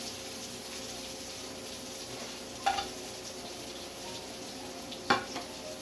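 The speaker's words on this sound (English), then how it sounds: "See that steaming back up, really nice." Pork sausage schnitzel sizzles and steams in a pan with a splash of water, a soft steady frying hiss with two brief sharper clinks or spatters, no talking.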